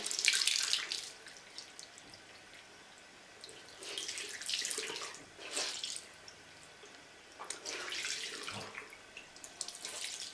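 Cold water from a tap runs in three separate bursts over a makeup sponge (beauty blender) being filled and squeezed, splashing close by, with quieter pauses in between.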